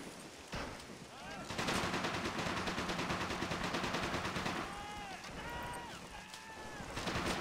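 Submachine guns trade rapid automatic bursts in a 1v1 online shooter match, with rattling volleys under a constant background hum and a few thin whistling tones.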